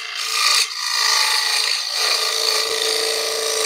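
Woodturning tool cutting across the bottom of a bowl on a lathe with an Axminster SK88 chuck, a continuous close scraping, hissing cut with no speech.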